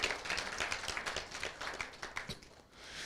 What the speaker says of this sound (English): I think you deserve a round of applause for all these interventions.